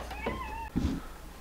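A cat meows once, a drawn-out mewing cry, followed by a lower throaty sound, close and fairly clear over soft room noise.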